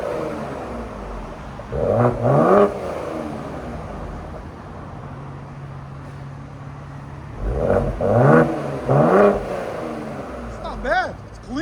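A Ford Explorer ST with a 3.0L twin-turbo V6 is revved in two short bursts, the first around two seconds and a second longer series later, each rising and falling back to a quiet idle between, with brief speech nearby.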